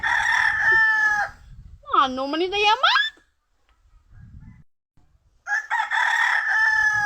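A rooster crows loudly once with a rising, wavering call, framed by bursts of clucking and crowing and a brief stretch of low talk.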